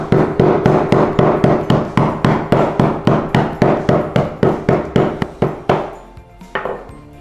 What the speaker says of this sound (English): Maybe I'll just hammer it.